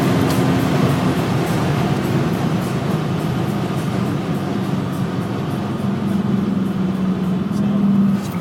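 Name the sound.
BMW 328 e36 accelerating hard on the autobahn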